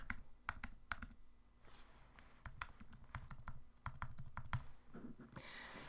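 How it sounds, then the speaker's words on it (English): Keys tapped on a computer keyboard while card details are entered at checkout, an uneven run of close, crisp clicks with short pauses and no talking. "you just have to enter your card details"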